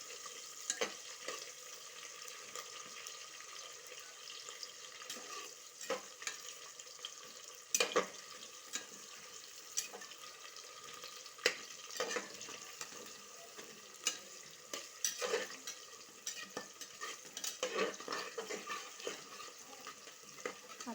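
Sliced onion dropped into hot oil with whole spices in a pan, giving a steady close crackling sizzle with scattered sharper pops and spits throughout, no voices.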